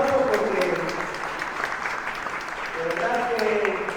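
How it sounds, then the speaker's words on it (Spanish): An audience applauds at a Mexican government event on migrant finances, dense clapping sustained throughout while a voice speaks over it. "Fuerte"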